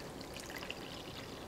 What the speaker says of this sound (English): I'm gonna pour a little bit more water in.